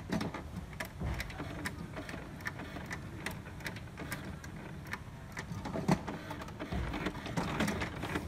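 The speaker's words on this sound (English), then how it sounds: "printer is warming up." An HP Smart Tank printer warms up with a steady mechanical whir, broken by repeated clicks and short motor pulses, heard close with no one talking.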